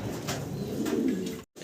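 A racer pigeon from a pair coos softly and repeatedly close by, low throaty calls rolling together before a brief cut to silence near the end.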